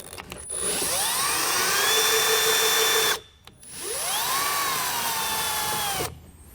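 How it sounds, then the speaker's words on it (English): A power driver with a 10mm socket spins out bolts holding a K-Source flip-out towing mirror on a 2006 Dodge, two loud close whirring runs that rise in pitch, separated by a brief pause. "Now we'll remove the 3 bolts. We're just using our 10mm socket once again."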